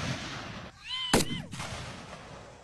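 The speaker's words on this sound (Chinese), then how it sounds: "当巨大的枪声在耳边响起" A single loud rifle shot cracks sharply at military live-fire shooting practice, with a high frightened cry just before and after it against a dull background hum.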